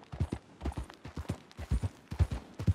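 Horse hooves clip-clopping steadily on a dirt path in Red Dead Redemption 2, a close, even trotting rhythm with no other sound over it.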